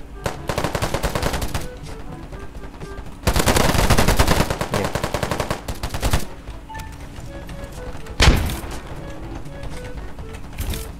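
Bursts of rapid automatic gunfire from a video game, loud and close, with several sustained volleys separated by quieter stretches of game ambience.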